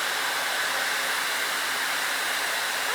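A Harry Josh blow dryer runs close and steady, a loud even whoosh of fan and airflow that holds without a break for the whole stretch.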